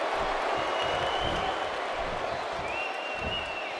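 A cheering arena crowd in Phoenix during a simulated WWE 2K18 match, a steady loud roar and applause filling the whole stretch, with a whistle-like tone drifting over the top.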